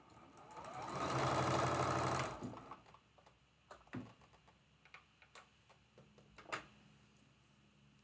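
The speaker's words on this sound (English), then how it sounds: "And we're going to sew that while we're here at the machine." A sewing machine runs in a steady burst for about two seconds while quilt block pieces are stitched, followed by quieter scattered clicks and handling taps.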